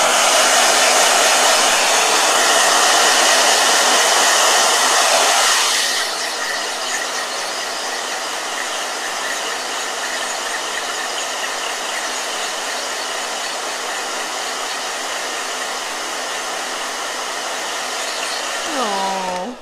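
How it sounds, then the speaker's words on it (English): A blow dryer runs loud and steady, its harsh airy roar dropping to a softer level after about six seconds, then continuing evenly before a brief squeal at the end. "So that's blow dryer."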